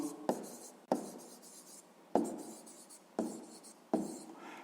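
Numbers are written by hand on paper in a quiet room: five short, separate pen strokes with soft scratchy onsets, each fading quickly, spaced about a second apart, with no voices.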